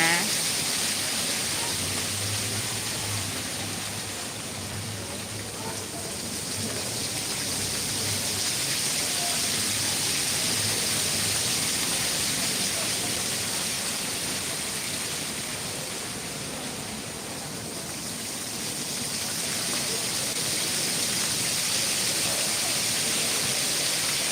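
A fountain or waterfall pours out a steady, even rush of water that swells and eases slightly over its length, with no voices over it.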